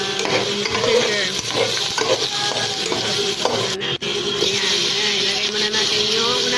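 Onion, garlic and ginger sautéing in a little oil in a pan for a dry adobo, giving a steady close sizzle with occasional soft stirring scrapes. A dull hum lies underneath and there is no talking.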